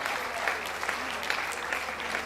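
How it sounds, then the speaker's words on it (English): Steady applause from an audience honoring students of a Center for Skills Acquisition at a polytechnics registrars' conference in Nigeria, dense and even throughout with faint voices underneath. "Another round of applause for them."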